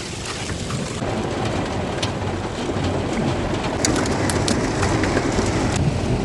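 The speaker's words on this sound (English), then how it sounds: "I'm not even mad that it's raining because it was so hot." Heavy rain pours down at an SUV campsite in humid weather, a dense continuous hiss and patter on surfaces, with faint bird calls and a hint of distant thunder.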